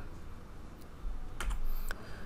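A few quick keystrokes on a computer keyboard while entering a command, faint and close over a steady low room hum.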